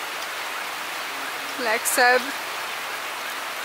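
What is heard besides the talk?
pouring rain over the jungle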